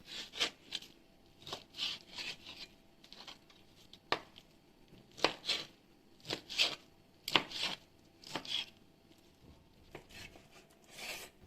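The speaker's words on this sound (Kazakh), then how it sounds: "Келесі кезекте тауық етін тураймыз." A knife chops chicken meat into cubes on a cutting board for an Alatau salad with chechil cheese, making irregular, close, crisp taps and short scraping strokes with brief pauses between cuts.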